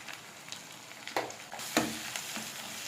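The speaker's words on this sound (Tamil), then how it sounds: "இப்போ நம்ம வதக்கிக்கலாம் நல்லா" Oil sizzles steadily in a pan as spices fry for chicken gravy masala, with a few sharp spatters and scraping stir sounds breaking through the hiss.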